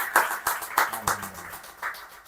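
A church congregation claps for the Lord at a prayer meeting, a burst of several rhythmic group claps close by that fades out.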